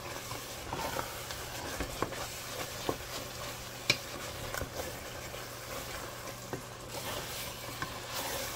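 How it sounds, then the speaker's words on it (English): Red wine being stirred into a simmering meat sauce while the spoon scrapes the bottom of the pot, giving a steady sizzle broken by scattered scraping clicks and knocks, close up with no talking. "Mix it in and make sure you're scraping the bottom of the pot."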